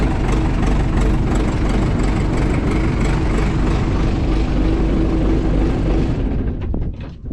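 An engine that has sat unused for a year runs steadily right after starting, a loud, continuous low rumble at idle that drops off abruptly near the end.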